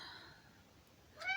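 A short cat meow rises at the very end after a quiet, murmuring stretch, brief and fairly close.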